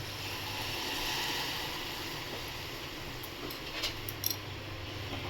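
Hot water poured into a pan of sev sabzi: a steady, even wash of hissing liquid noise lasting the whole moment, with a few faint high clicks toward the end.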